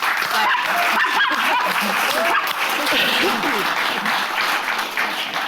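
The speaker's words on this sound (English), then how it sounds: "That's worth a round of applause." An audience at the Bedford applauds during a live interview, a dense, steady wash of clapping that holds loud from start to finish, with a dog-like yelp or cheer briefly mixed in.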